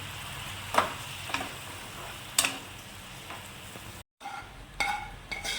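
Turkey berry pickle with asafoetida is stirred in a pan, with a few faint scraping clinks of the spoon over a soft low sizzle, quiet and close.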